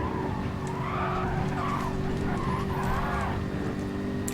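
Tires squealing and skidding as grip is lost in a racing video game driven on a Fanatec DD Pro wheel, several wavering squeals over a steady loud engine hum.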